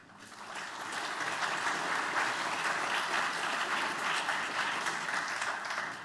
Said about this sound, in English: An applause for Bodil Stokke, please.